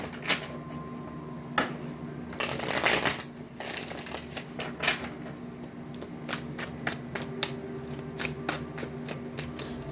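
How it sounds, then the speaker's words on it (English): Tarot cards shuffled and pulled from a deck, a run of soft papery riffles and crisp flicks with a sustained burst of rapid shuffling partway through, close and fairly quiet over a low steady hum. "I'm just pulling a bunch of cards here"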